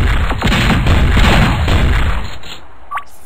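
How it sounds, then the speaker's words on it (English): Shotgun blasts from the video game Raze 2, a heavy booming shot followed by echoing rumbles and a short electronic tone near the end. "Shotgun."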